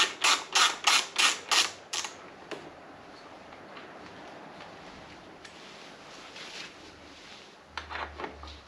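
Two 8mm bolts being undone from the front cowling of a Ducati Monster S4, a quick run of six ratcheting clicks at the start, then quiet, with another short burst of clicks near the end.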